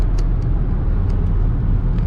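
A Saab car cruising on the road during a road trip, a loud steady low engine and road rumble inside the cabin with a few faint ticks above it and no talking.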